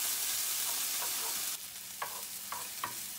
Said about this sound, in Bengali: পেঁয়াজটা আমি অল্প করে টমেটোর সাথে ভেজে দিলাম 1 মিনিটের জন্য